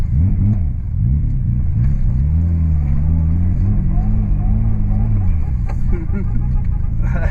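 Inside an H6-swapped Subaru Legacy, the flat-six engine revs and rises and falls steadily while driving through the gears, a loud continuous harmonic drone with a voice briefly speaking over it.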